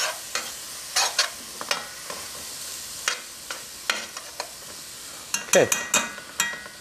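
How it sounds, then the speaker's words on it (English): Food seasoned with red pepper flakes gets stirred in a sizzling pan, the spoon making repeated scraping strokes over a steady frying hiss, with a brief spoken word partway through and a burst of quicker stirring near the end. "We'll stir this around"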